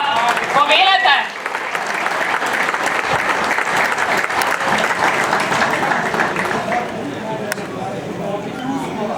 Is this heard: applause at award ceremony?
yes